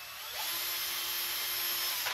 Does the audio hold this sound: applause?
no